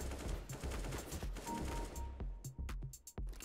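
Rapid AK-47 gunfire from the Counter-Strike shooter game comes in quick, crackling bursts, ending in a few sharp separate shots, all fairly quiet overall.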